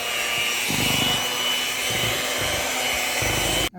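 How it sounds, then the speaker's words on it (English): An electric hand mixer whirs steadily while blending a cheesecake salad filling of cherry pie filling, cream cheese, powdered sugar and whipped topping, with a continuous close motor drone and bowl scraping that cuts off abruptly at the end. "Turn the mixer on for just a minute here."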